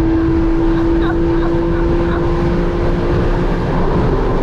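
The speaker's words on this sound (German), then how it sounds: "das Dröhnen von diesem 4-Liter-Motor" A loud, continuous drone of a Porsche 718 Boxster GTS 4.0's naturally aspirated 4-litre engine with a steady low hum fills the cabin, rumbling evenly throughout without letting up.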